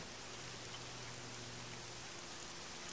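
Steady rain in a video game hisses evenly on surfaces, a constant soft wash of drops with no voices or other sounds.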